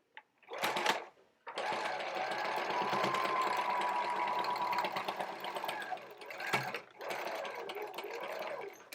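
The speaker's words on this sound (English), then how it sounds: "So I like to do my top stitch right in the corner so it looks well finished." Sewing machine topstitching a homemade fabric mask, a close, steady rapid whir that runs for several seconds with short stops and restarts, plus a brief starting burst before it.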